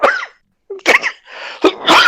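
A harsh coughing fit: a few forceful, raspy coughs close to the mic, then a short pause and more coughs in quick bursts.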